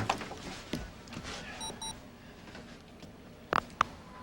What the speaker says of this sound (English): at last we get to make a phone call